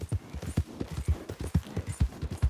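Horse hooves clip-clop in Red Dead Redemption II, a steady run of close, distinct footfalls with a galloping rhythm and no talk over them.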